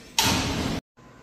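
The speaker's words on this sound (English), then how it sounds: "You can close that door." A combine harvester's access door swings shut in one loud, broad slam lasting about half a second, then a brief drop to near silence before quieter mechanical hum resumes.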